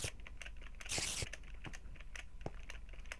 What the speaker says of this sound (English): Sorry if my keyboard sounds loud.